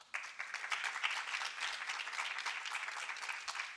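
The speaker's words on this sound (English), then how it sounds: "we need to give another hands of applause for that" Sustained applause from a conference audience at a higher education research gathering on gender-based violence, a steady dense patter of many hands clapping that begins abruptly and continues at even strength throughout.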